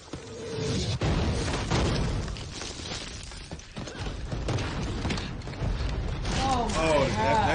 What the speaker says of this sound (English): that's heavy fire right there